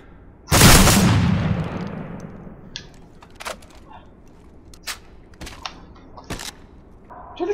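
A single loud gunshot with a long decaying boom in the Call of Duty map Hardhat, followed by scattered quieter clicks and distant shots, with faint voices in the background.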